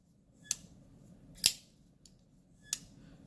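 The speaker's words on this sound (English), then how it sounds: "This knife has a little sound when I'm closing it." A Zero Tolerance 0393 folding knife closes in a few brief, sharp snaps with a thin, high-pitched friction edge, heard alone in a quiet room.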